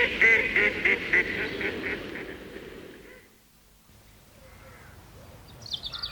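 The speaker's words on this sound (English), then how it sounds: "But all I heard was cluck, cluck, cluck, and quack, quack, quack from Mrs. Duck." Repeated nasal quacking and honking from a hen and a duck for a few seconds, then the calls fade into quiet, with a faint chirp near the end.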